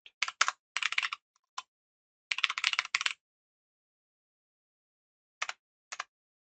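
Computer keyboard typing out a SystemVerilog test bench, close bursts of rapid keystrokes with short pauses and a few isolated taps near the end.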